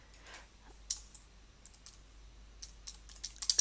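Computer mouse and keyboard clicks, faint and close, scattered irregular taps growing busier toward the end over a low steady hum.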